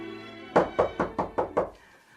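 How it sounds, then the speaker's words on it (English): Six firm knocks on a door in a steady, evenly spaced series, fairly close and alone with no voices over them. "there was a knock at the door"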